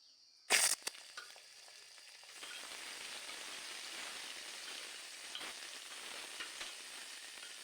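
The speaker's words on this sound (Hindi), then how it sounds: "तो थोड़े हम लोग इसको फ्राई कर लेते हैं, एक आध मिनट इसको मैं फ्राई होने देता हूँ।" Cumin, garlic, onion and curry leaves frying in hot mustard oil, opening with a sharp loud crackle as they hit the pan, then settling into a steady soft hiss of sizzling that continues to the end.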